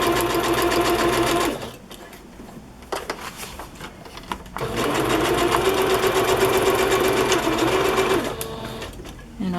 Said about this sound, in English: So right now I'm just going to stitch this on, and I'll use the straight stitch